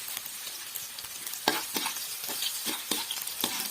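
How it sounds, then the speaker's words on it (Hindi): Chopped onion sizzling in hot ghee in a wok while being stirred, a steady close frying hiss broken by repeated scraping strokes of a spoon. "यहाँ पे हमने कढ़ाई में घी डाल दिया, घी हमारा हो चुका है गर्म। तो यहाँ इसमें ये देखिए हमने प्याज लिया"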